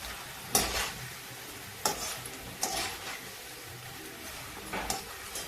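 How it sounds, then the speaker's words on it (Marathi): Maize chivda with masala fries gently in oil over a low flame, with a soft continuous sizzle and a few sharper scraping stir strokes spaced every second or so. "हे असं छान तळून घ्यायचं गॅस कमी ठेवायचा जास्त फास्ट नाही ठेवायचं"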